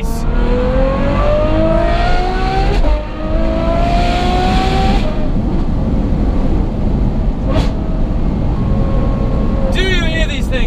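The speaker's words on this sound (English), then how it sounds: "The exhaust tone on this thing" A powerful Ferrari F12 engine and exhaust roar and rev loudly, pitch climbing through gears, with voices talking over the steady rumble.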